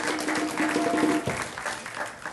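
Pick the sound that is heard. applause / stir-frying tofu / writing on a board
applause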